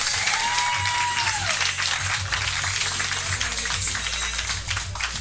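Sustained comedy club audience applause at a roast battle, dense clapping with crowd noise throughout, loud and steady, with a brief whistle or cheer near the start and low music underneath.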